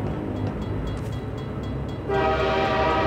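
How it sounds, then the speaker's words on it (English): A slow-approaching train in the Half-Life 2 video game rumbles steadily, then a loud, sustained horn blast cuts in during the final second and holds to the end, with no voices. "that train is coming really slow"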